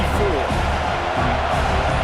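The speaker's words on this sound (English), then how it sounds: "This crowd bringing the energy and noise early" A stadium crowd roars steadily in the College Football 26 video game during Delaware versus Notre Dame, a dense constant wash of noise with commentary voices over it.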